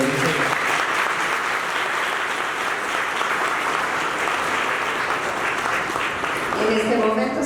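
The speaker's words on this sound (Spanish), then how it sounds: "Un fuerte aplauso para ellos" Applause from the members gathered at a monthly meeting session on diversity, equity and inclusion, dense steady clapping filling the room throughout, with a voice emerging faintly near the end.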